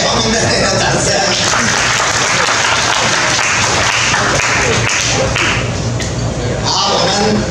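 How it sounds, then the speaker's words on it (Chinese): An audience at a school parents' committee banquet in a Japanese restaurant claps loudly and steadily throughout, a dense, sustained applause with voices mixed in. "再给我们的那个掌声"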